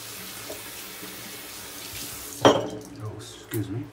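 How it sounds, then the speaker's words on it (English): A bathroom or kitchen tap runs while hands are rinsed beneath it, a soft steady water flow broken by a sudden louder splash and a brief clunk near the end. "I'm gonna rinse off my hands."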